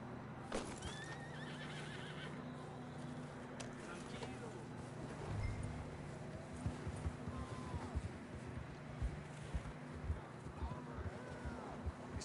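Horses whinny and neigh in Red Dead Redemption 2 while hooves clip-clop on the ground, with several neighs spread over a steady patter of hooves, wind and faint birds, and people talking over it.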